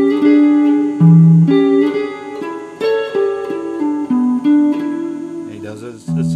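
An electric guitar plays a blues lick, a string of bent and sliding notes in short phrases with pauses between, clear and up close.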